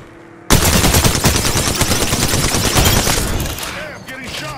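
Rapid automatic gunfire in the Apex Legends battle royale game, a dense continuous burst starting abruptly and sustained for several seconds, loud and close, trailing into scattered shots and effects at the end.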